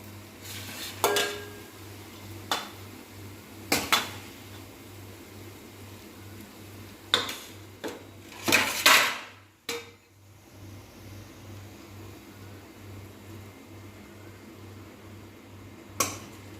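Cooked noodles being scraped and transferred from a pan onto a plate, with intermittent metal clinks, scrapes and taps of utensil on pan and dish over a low steady hum.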